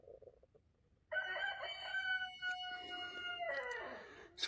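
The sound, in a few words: golden lace rooster crowing at dawn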